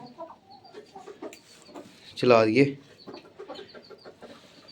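A hen gives a short burst of clucking partway through, loud and close, with people talking softly before and after.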